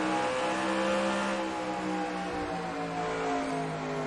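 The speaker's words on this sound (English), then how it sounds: "Listen to how much smoother his engine sound is." Race car engine roaring steadily at Bristol in a NASCAR video game, a smooth sustained drone with shifting pitch as the car rolls through the corner, loud and alone.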